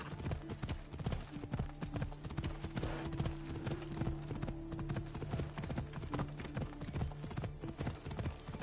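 Horse hooves clip-clop steadily and rapidly in Assassin's Creed Odyssey, a close, even trot with rhythmic thuds and occasional tack jingles, continuous throughout.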